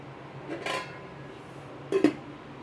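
A metal lid set down on a cooking pot of Chettinad country-chicken rasam, two short close clanks about a second and a half apart, with no voices.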